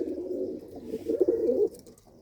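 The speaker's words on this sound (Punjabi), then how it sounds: "ਤੇ ਆ ਨਾਲ ਲੱਗਾ ਹੋਇਆ ਕਬੂਤਰ" A pigeon sits in a coop, giving soft, low throaty coos in a short rolling sequence, fairly quiet and close, with no other sound around it.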